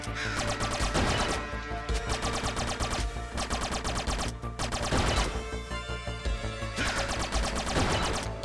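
Rapid gunfire in The Mummy Demastered plays as dense, loud percussive bursts over driving game music, repeating continuously in sharp clusters.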